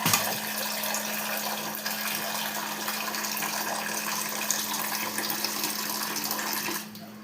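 Water pours in a strong, steady stream into a large pot for cooking Maggi noodles, splashing continuously before cutting off abruptly near the end.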